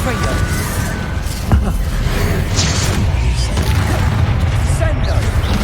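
In Hogwarts Legacy, a Confringo spell explosion lands as a sudden thump with crackling debris, followed by ongoing rumbling game effects and clatter. A person talks over the action throughout.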